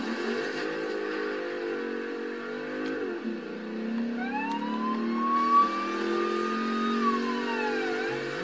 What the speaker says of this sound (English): I love that siren.